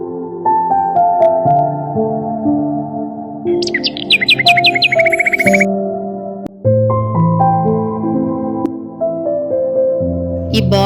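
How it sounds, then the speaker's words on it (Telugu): Birds call inside a zoo park aviary, with a steady layered background of calls and one loud, rapid burst of chirps in the middle, then quieter calls continue. "డిఫరెంట్ టైప్స్ ఆఫ్ బర్డ్స్ ఉన్నాయండి ఇక్కడ, సో అవి చూద్దామని వెళ్తున్నాము."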